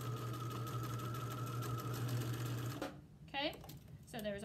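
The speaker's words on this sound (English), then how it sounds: "So I just want to hold my fabric and I want to sew right on top of the rope." A sewing machine stitches fabric over a length of rope with a steady, close mechanical whir for nearly three seconds, then stops as a person begins speaking.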